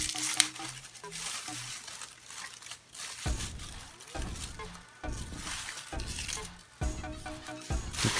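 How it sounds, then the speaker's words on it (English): Papery onion skin being peeled off by hand, close dry crinkling and crackling in repeated bursts with short pauses between pulls. "you want to take as much of the peel off of the onion as you can"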